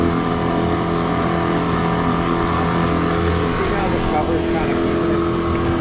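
A Mercury 9.9 outboard motor pushes a big boat over the water with a loud, steady drone and constant hum throughout, while people talk briefly over it.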